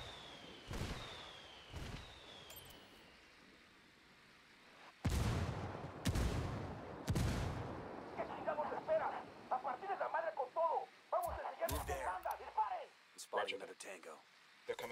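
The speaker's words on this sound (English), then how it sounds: "I'm calling for indirect fire." An indirect-fire artillery strike in the video game Ghost Recon Wildlands: a whistle followed by a series of heavy, booming impacts, then scattered gunfire and crackling, with people talking over it.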